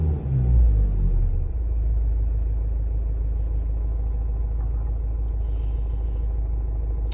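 A Mazda CX-5 diesel engine with DPF problems idles steadily, giving a low, even rumble close by after a brief louder start, with no talk.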